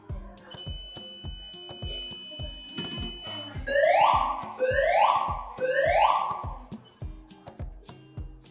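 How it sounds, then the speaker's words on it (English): An Australian fire alarm occupant warning system sounds its tone as a series of rising whoop sweeps repeated three times, over a steady pulsing beat, loud and close. "The fire alarm system on test."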